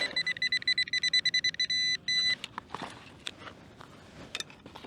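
A Nokta Legend 2 metal detector sweeps over hauled-in sand in a park, giving a rapid run of sharp, evenly spaced electronic beeps that merge into a sustained tone before stopping, followed by soft rustling and footsteps.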